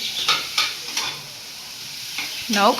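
Carrots stir-frying in a pan for ghee momos, with a few scraping stirs early on and a louder clatter near the end over a steady soft sizzle; no talking.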